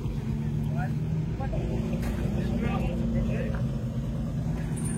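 Classic rally car engines idle and rumble in a busy parc fermé at the Tour Auto in Carcassonne, a steady low drone running throughout with faint crowd murmur and distant voices in the background.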